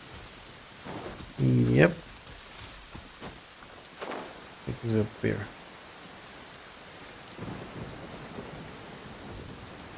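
A thunder and lightning storm in the video game Genshin Impact: rain hisses steadily while low thunder rumbles and crackles swell in a few bursts, with someone speaking briefly over it.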